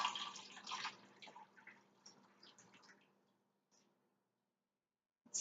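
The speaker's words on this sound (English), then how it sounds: "I'm gonna go ahead and put some water in now." Water poured into a Keurig coffee maker's reservoir, a faint splashing trickle that tapers off into quiet drips, heard close with a brief clatter at the end.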